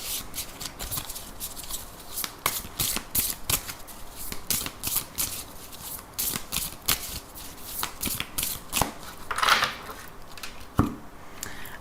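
Tarot cards being shuffled by hand, a run of crisp riffling and flicking sounds in irregular bursts, close and moderately quiet with no talking.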